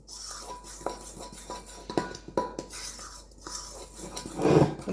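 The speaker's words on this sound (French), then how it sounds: "Je vais mélanger à la cuillère parce que ça, c'est que du sec, donc il n'y a pas besoin de robot." A spoon stirring dry ingredients for a gluten-free chorizo and comté cake in a bowl, giving repeated soft scraping strokes and light clinks against the side, close and fairly quiet.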